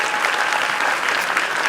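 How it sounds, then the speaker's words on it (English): Audience applause at a web series awards ceremony after a Best Comedic Actor winner is named: a steady, dense wash of many hands clapping at close range, continuous and even for the whole stretch with no voices over it. "Rounds of applause."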